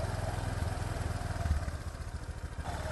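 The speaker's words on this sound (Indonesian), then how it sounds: "ini setelah sekitar 5 menit kita nyalakan ya mesinnya" A Honda Vario 150 motorcycle engine idling steadily after a coolant change, a continuous low rumbling hum at moderate distance with no talk.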